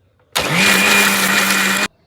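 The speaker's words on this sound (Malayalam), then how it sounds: "ഈ ഫ്രൈ ചെയ്തെല്ലാം നമുക്കുണ്ടല്ലോ മിക്സിക്ക് അതിട്ട് അരച്ചെടുത്തോണ്ട് വരാം" A mixer grinder whirs loudly and steadily while grinding fried coconut and spices for an egg roast curry, starting abruptly, running for about a second and a half, then cutting off clean.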